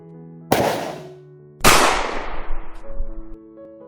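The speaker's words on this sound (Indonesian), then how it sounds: "Suara tembakan terdengar dari bawah." Two sharp, loud gunshots about a second apart, each followed by a long decaying echo, with a low musical drone underneath, heard from below in a dramatized story.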